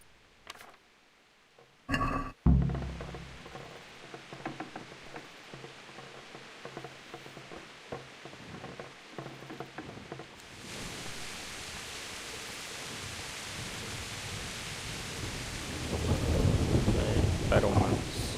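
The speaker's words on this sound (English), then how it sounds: "it is raining outside" A sharp crack of thunder followed by a rumbling roll, then steady rain hissing and building louder toward the end, with no talking, in the video game Kingdom Come: Deliverance.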